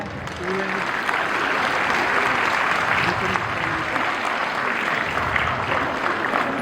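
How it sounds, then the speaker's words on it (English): An audience at an annual prize distribution function claps steadily, a dense, even wash of applause that holds at full strength for the whole stretch, with a faint voice briefly audible early on. "Please, a huge round of applause."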